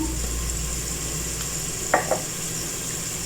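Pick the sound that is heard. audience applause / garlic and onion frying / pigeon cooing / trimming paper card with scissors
garlic and onion frying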